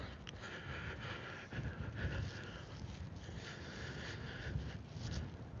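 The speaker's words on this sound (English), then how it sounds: "I don't know if you can hear that wind." Gusty wind buffets the microphone in rough, uneven surges, a constant low rumble with brief louder swells and no voices.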